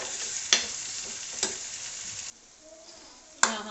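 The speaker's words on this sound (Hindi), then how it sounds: "आलू को अच्छे से भून लेंगे, इस तरीके से अच्छे से हम इसकी भुनाई करेंगे।" Potatoes stir-fried with garam masala in a hot pan hiss steadily while a spatula scrapes and knocks the pan a few times. The sizzle drops away partway through before one more sharp scrape.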